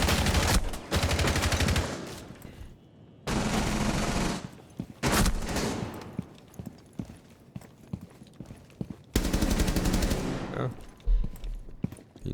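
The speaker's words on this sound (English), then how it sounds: "He tried to shoot him through the wall." Gunfire in the video game Rainbow Six Siege, with several loud bursts of rapid automatic shots and scattered single cracks, heavy and close, separated by quieter stretches of game noise and mixed with voice.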